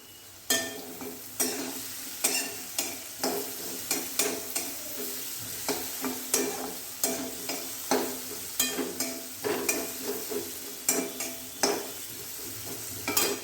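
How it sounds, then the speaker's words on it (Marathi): Potatoes and red chili powder frying in oil, sizzling steadily beneath repeated scraping strokes of a spoon stirring in the pan, close and regular with no talk. "तेलात तिखटसुद्धा छान परतलं जात आहे लालपूड जी आहे ती आणि आपले बटाटे पण छान परतले जात आहेत"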